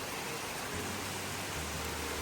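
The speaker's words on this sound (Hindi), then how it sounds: "वैसे मौसम बना हुआ था और अभी बारिश अब हो गई फाइनली।" Heavy monsoon rain falls steadily in a dense, even hiss with no breaks, close and continuous, and nobody speaks.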